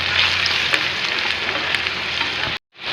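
Onion, garlic, turmeric and chili powder fry in oil with a loud, dense, steady sizzle and a couple of faint stirring clicks, cutting abruptly to silence near the end.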